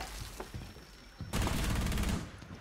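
Burst of sustained automatic gunfire in Rainbow Six Siege during a Theme Park team deathmatch, a dense, loud volley breaking in after quieter scattered shots and ending abruptly.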